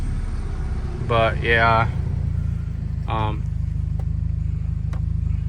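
A 2015 Mercedes CLA 250 4matic, stuck in gear and not moving, runs with a steady, loud low engine drone, while someone speaks briefly over it a couple of times.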